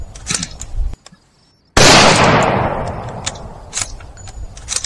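A single loud gunshot in the survival horror game Project Zomboid bursts in after a brief silence and rings out with a long decaying tail, with quieter ambient game sounds around it.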